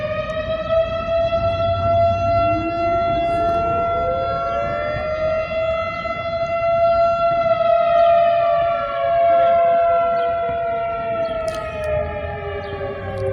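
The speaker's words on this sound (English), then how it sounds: "Maybe I'll wait until that siren is done" A loud wailing siren sweeps slowly up and down in pitch, sustained throughout with no talking.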